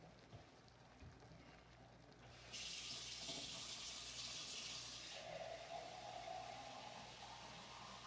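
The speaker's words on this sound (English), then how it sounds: "I'm gonna be adding water to it." Water running into a pot of homemade chili with meat, a faint, steady hiss that switches on after a quiet start, holds for a few seconds and then settles into a softer, lower filling sound, with no talking.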